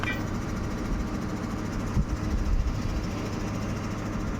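A borewell drilling machine runs at a new well site, a loud, steady low mechanical rumble and drone with slight knocking bursts near the middle, continuous throughout.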